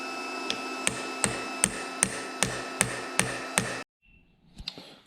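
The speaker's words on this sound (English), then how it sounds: "I don't really like hitting on things with hammers." A hammer taps repeatedly on a stuck part of a Christen drill grinder under restoration, about nine evenly spaced sharp metallic strikes, close and loud, followed by a pause and a few faint clicks.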